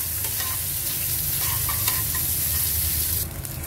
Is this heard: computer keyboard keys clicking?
no